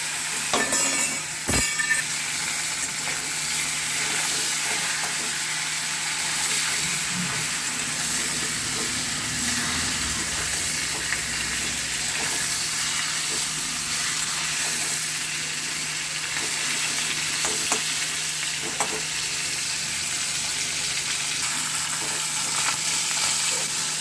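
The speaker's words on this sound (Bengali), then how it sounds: "এবারে কড়াইটার মধ্যে ইলিশ মাছের মাথাগুলোকে আমি ভালো করে লাল লাল করে ভেজে নেবো" Hilsa fish heads frying in oil in a wok, a steady bright sizzle and hiss that runs unbroken throughout, with a few clinks of a utensil near the start.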